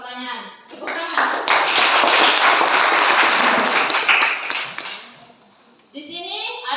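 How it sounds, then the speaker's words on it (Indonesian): A classroom of students claps together in a dense, loud burst lasting several seconds before fading, with a voice talking just before and after. "Tepuk tangan."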